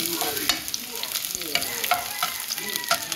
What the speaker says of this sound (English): Now I just fry